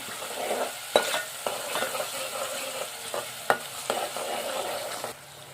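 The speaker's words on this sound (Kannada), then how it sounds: "ಅದಕ್ಕೆ ಇವಾಗ ಫ್ರೈ ಮಾಡ್ಕೋಬೇಕು ಚೆಂದಾಗಿ" Ingredients for horse gram curry fry in a pan, a gentle sizzle broken by a series of distinct spatula knocks and scrapes at an uneven pace, close and without talk.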